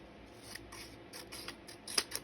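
Scissors trim a piece of paper for a garden journal with a few soft close snips and a sharper cut at the end, quiet and without voices.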